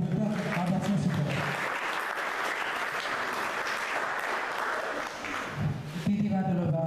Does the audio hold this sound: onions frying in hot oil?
no